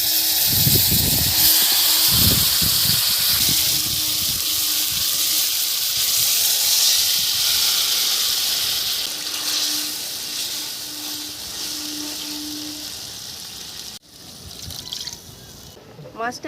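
Spiced water, rinsed from a bowl, is poured into a hot pan holding a 250 g pond koi fish for steamed bhapa: a close, continuous hissing trickle that sizzles and fades toward the end.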